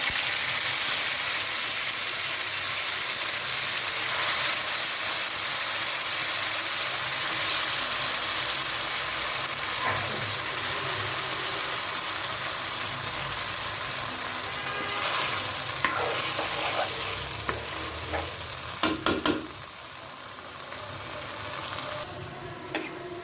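Chilies fry in a pan for a tomato and chili sauce, giving a steady close sizzle and hiss with repeated stirring scrapes, and a few sharper utensil clatters near the end.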